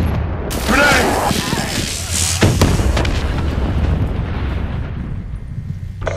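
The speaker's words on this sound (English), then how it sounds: "Grenade!" Grenade explosion in the shooter Black Ops III, a loud close boom that rolls into a long rumbling tail, with gunfire and a voice shouting over the blast.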